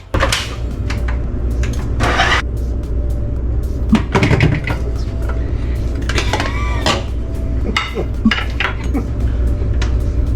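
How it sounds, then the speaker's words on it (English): Dishes, pots and cutlery clatter and clink steadily while being washed in a yacht galley, with bursts of running water and occasional cupboard knocks; a voice briefly speaks in the background. "I went back into the galley to start cleaning"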